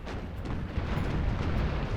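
Massed musket and cannon fire from a Napoleon: Total War battle as Ottoman troops engage, a continuous dense rumble of overlapping shots and booms, loud and steady with no talking.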